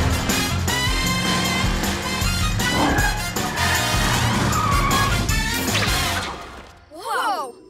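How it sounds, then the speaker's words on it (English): The cartoon Cat-Car from PJ Masks speeds off with a loud revving engine and squealing tires over a dense music score, ending in a brief whooshing swoop as the sound drops away. "To the cat car!"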